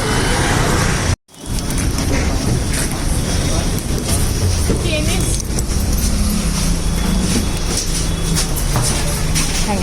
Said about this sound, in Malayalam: ഓക്കെ ബസ് വരുന്നുണ്ട്